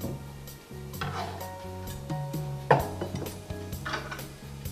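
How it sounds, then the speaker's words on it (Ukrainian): Oil, vinegar and garlic mixed in a bowl for a Mediterranean salad dressing, giving a steady close scraping and clinking of utensil against dish with a sharper knock partway through, no talking. "нашу олію та оцет і змішаємо їх. Додаємо чесничок"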